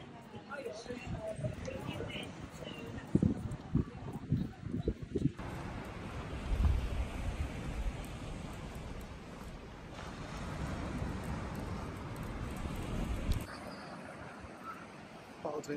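Steady wind noise buffets the microphone outdoors in Calpe in early January, with gusts rising and falling and people talking over it throughout.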